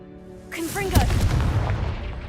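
Video game blasting spell Confringo going off, a sudden booming explosion with a rumbling tail after a short synthetic whoosh, loud and close.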